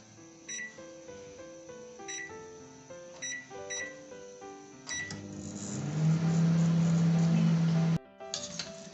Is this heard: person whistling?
no